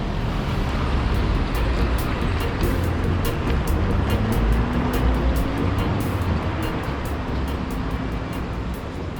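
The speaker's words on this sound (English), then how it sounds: "there's a bunch of cars passing by" Cars pass along a road beside a Jamaican street food spot at evening, a steady wash of traffic noise with one vehicle hum rising and fading midway, and faint clatter in the background.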